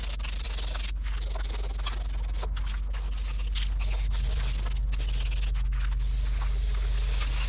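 Aerosol spray paint cans hiss onto a 1967–72 Chevrolet C10 truck bed in long, steady bursts broken by short pauses, close and fairly soft.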